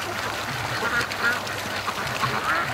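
Ducks on a lake give several scattered quacks, a few distinct calls spread over a few seconds at moderate distance, over a steady background hiss of outdoor weather.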